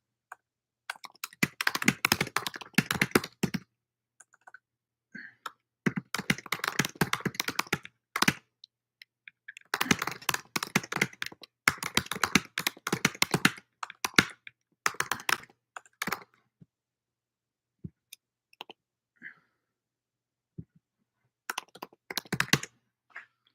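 Bursts of brisk computer keyboard typing into a chat, close and crisp, separated by short silent pauses.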